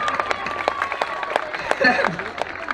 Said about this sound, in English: Round of applause for Kelsey.